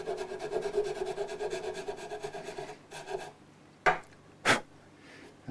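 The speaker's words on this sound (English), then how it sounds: "So the rasp can do quite a lot" Rasp filing the bridge saddle of a Martin HD28 acoustic guitar, a close, rhythmic scraping of repeated strokes for a few seconds, followed by quieter pauses and two sharp knocks.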